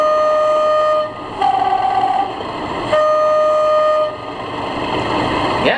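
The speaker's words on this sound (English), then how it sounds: "Accurascale have got that sound spot on, haven't they? What I'm going to do is play a couple of the horns for you" A model class 37 diesel locomotive with Accurascale DCC sound sounds two-tone horns in several clear, sustained blasts over a steady engine rumble.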